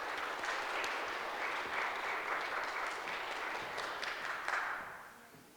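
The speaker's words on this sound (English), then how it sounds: "Give applause." A drone seminar audience gives applause, a soft, distant wash of clapping that holds steady and then fades out near the end, with no speech over it.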